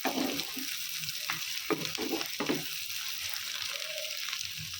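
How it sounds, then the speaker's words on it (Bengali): Chopped onions and garlic frying in oil while being stirred for birista, a close steady sizzle broken by several scraping stirs early on, then a calmer fry. "এখন আমি এগুলো ভালোভাবে নেড়ে চেড়ে পেঁয়াজ বেরেস্তা করে নেব।"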